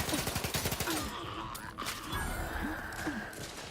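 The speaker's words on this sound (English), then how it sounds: "hey, quit shooting me" Rapid gunfire in Outer Worlds 2, a burst of repeated shots at the start giving way to mechanical clatter and scattered game sounds with brief vocal gasps.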